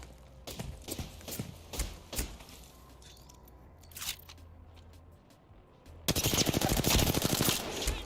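Gunfire aimed at the player in Apex Legends, with scattered single shots at first, then a sudden loud, rapid automatic burst at close range.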